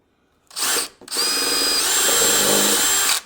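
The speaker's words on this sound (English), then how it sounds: "Always use a drill." A power drill whirs briefly, pauses, then runs steadily for about two seconds as it drives a screw while installing a window blind, loud and close.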